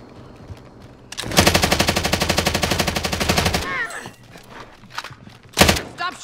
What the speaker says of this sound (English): Stop shooting at me! Taking fire over here!